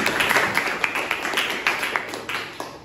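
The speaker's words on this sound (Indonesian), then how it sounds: "Tepuk tangan untuk kita semua" Fifth-grade primary school pupils clap together in an Islamic religious education lesson, a scattered burst of hand claps with sharp irregular beats over a noisy room.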